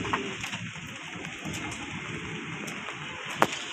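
Rain falls steadily in an outdoor area where pigeons are kept, a soft continuous patter with scattered sharper drops and clicks.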